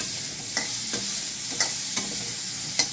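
Continuous oily sizzle of vegetable stalks frying in a pan, punctuated by several light scraping and tapping sounds from stirring.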